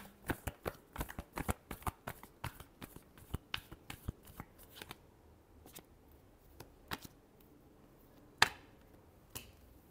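Tarot cards shuffled close by in quick, crisp riffling bursts, dense during the first five seconds and then thinning to scattered flicks and taps, with no voices.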